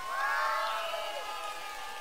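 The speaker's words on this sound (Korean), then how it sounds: "큰 박수로 모시도록 하겠습니다" An audience cheers and whoops in welcome at a reunification event, a broad crowd roar that swells early and then holds steadily without pause.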